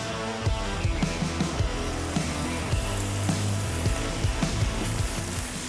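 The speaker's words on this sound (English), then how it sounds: "Got that sexy sizzle." Bacon crackles and sizzles in a hot cast iron skillet with extra oil, a constant frying hiss with scattered pops and soft clinks throughout.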